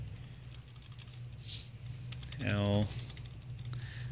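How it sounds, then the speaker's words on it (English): A few sharp key clicks from letters typed on a computer keyboard during a Nios II VGA and JTAG UART board demonstration, with someone speaking and a brief electronic tone sounding partway through. "I will type the letter K,"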